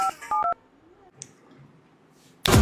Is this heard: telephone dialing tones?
yes